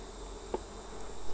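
Honey bees hum softly around an open hive during an inspection of a brood box, with a steady low drone of many insects and a brief faint tap partway through.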